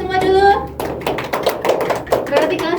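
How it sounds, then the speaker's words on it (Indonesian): Students in a classroom clap their hands together in a quick rhythmic round of applause, crisp close claps following a teacher's spoken cue. "tepuk tangan kita semua dulu"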